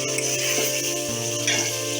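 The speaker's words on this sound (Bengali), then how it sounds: "কষানো হয়ে গেলে এখন পানি দিয়ে দেব। 3 কাপের মতো পানি দিয়ে দেব।" Water poured into a pan of frying beef liver curry with potatoes, a steady loud hiss and sizzle that shifts as the liquid settles, with no talk.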